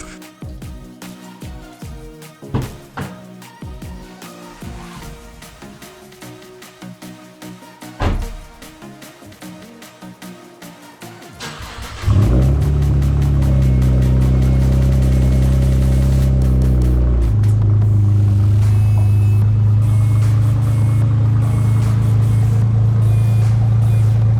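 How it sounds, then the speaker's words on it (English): A car is handled with clicks and knocks before its engine starts with a loud turnover and settles into a steady, close idle. A rising engine note follows as the car is moved out. "let's go through and we'll move out the car"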